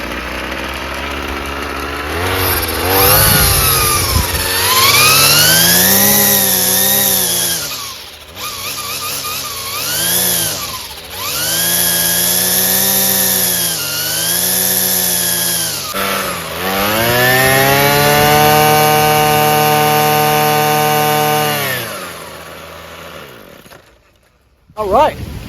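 A Ryobi full-crank weed trimmer engine running loud and close, revving up and down in repeated surges, then cutting off near the end, with a voice speaking over it.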